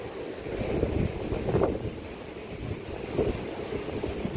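Floodwater overflowing open dam gates into a rushing river, a constant heavy roar with gusty wind noise swelling at moments, no voices.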